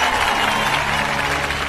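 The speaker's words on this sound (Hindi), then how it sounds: "ताली बजाओ ताली।" Crowd clapping and cheering in a Hindi dubbed action movie, a dense, steady wash of applause held at full volume throughout, with no break in it.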